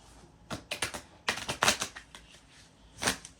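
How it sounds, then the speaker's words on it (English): A new deck of slick oracle cards is riffled and shuffled in several quick bursts of fluttering clicks, close and crisp, with brief pauses between. "So we're going to do some shuffles. Do some real shuffles now, actually."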